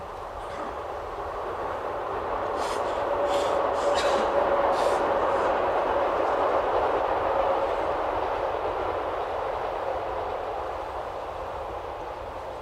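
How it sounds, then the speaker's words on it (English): A train passes at a distance outdoors during a 1967 gathering in Saanen, a steady rumble swelling and fading over about twelve seconds with faint higher clatter, no talk over it. "We'll wait for that train, please."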